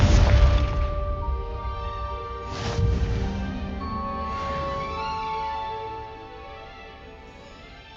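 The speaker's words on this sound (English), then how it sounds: "Confringo!" Confringo explosion spell cast in Hogwarts Legacy inside a greenhouse, a loud boom at the start followed by a second thud, then a long ringing magical tail that slowly fades.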